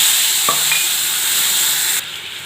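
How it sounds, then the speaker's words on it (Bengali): Ginger paste, chili paste and tomato fry as a tempering in a pan, giving a loud, steady close sizzle that drops slightly near the end, with no talk. "দেখুন ফোড়নটা দিয়ে দিচ্ছি। আদা বাটা, লঙ্কা বাটা, টমাটো,"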